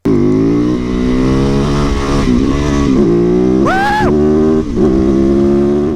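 A supermoto motorcycle engine running loud and close, holding a steady idle-like drone with a sharp rev surge near the middle before settling back.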